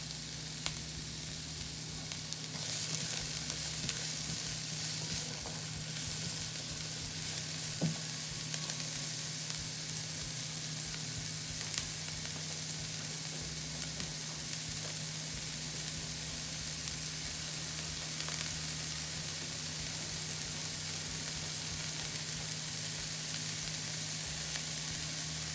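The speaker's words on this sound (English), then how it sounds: "Add in our onions. And we're going to let those cook down." Onions water-sautéing in a pan for a vegan shepherd's pie give a steady, close sizzle that runs unbroken throughout, with a low constant hum underneath and occasional faint stirring clicks.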